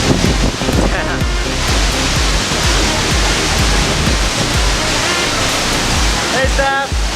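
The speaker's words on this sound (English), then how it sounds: "This is definitely the best waterfall of Indonesia that I've been to so far." A large waterfall in Lombok, Indonesia roars as a constant, loud, broadband rush of falling water, heard up close without a break.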